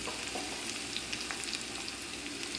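Garlic and small shallots fry in a pan with a soft, steady sizzle and scattered tiny pops and crackles, heard close but at low volume with no talking.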